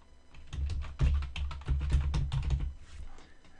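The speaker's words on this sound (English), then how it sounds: "Type in your username." A username is typed on a computer keyboard: a quick flurry of close key clicks and taps in uneven rhythm, fading out toward the end.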